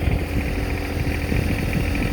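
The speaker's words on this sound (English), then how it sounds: "When you're up off the landing gear, you can just drive off." A vehicle idles and pulls away towing a trailer, a steady close engine drone at even loudness throughout, with no talk.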